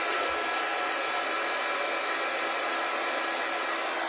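A heat tool blasts a steady, loud, dry whoosh of hot air, warming embossing powder for Christmas crafting; the airflow holds constant throughout with no talk.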